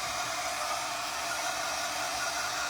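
Hair dryer blowing steadily on cement garden edging, a constant close, loud airy roar that holds unbroken throughout.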